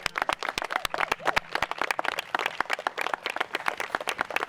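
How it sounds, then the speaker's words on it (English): A modest crowd claps at a boardwalk naming ceremony honoring a county supervisor, with distinct, close individual claps in a lively, uneven patter. "Let's clap again."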